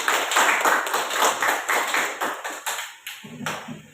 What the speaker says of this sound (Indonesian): Berikan dia apresiasi, tepuk tangan.